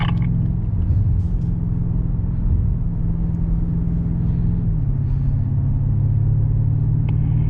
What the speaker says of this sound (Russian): Нажимаем на педаль газа. Ускоряем наш автомобиль.